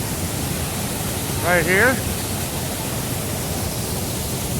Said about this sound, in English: We got this big waterfall.